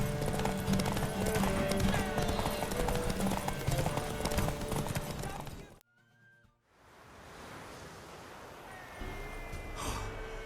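Horse hooves clip-clop in The Witcher 3 amid dense game music and ambience, cutting out briefly to near silence before softer ambient sound returns; snorts and breaths may be mixed in.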